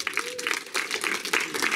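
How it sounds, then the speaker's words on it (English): Audience applause at an IT community meetup with a prize quiz, a short patter of clapping from a modest crowd, moderately loud, with a voice briefly speaking over it. "Big applause for these guys and girls."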